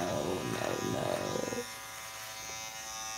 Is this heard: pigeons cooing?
no